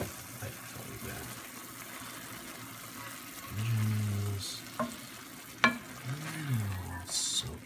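A pan of mushroom risotto sizzles and bubbles quietly. It is stirred with a few scrapes and clinks of a spoon, and short gurgling pours and faint taps come in between.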